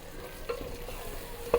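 Pulao masala is stirred and fried in ghee in a pan, giving a soft continuous sizzle with two brief scraping strokes of the spoon, close and fairly quiet, no voices.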